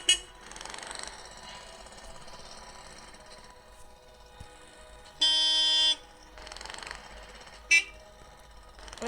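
A video game car horn in Minecraft honks in a sustained blast, followed by a shorter toot, over a faint engine hum and scattered noises.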